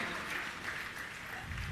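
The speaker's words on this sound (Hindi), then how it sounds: "आप लोग एक बार जोरदार तालियों से पूरे परिवार का स्वागत करें।" An audience applauds to welcome a family at a religious discourse gathering, producing a soft, continuous patter of clapping from a crowd at some distance.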